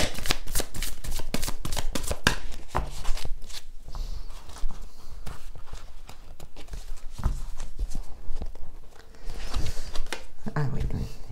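Oracle cards are shuffled by hand in a steady run of quick riffling and slapping sounds close up, going on throughout while someone speaks over them.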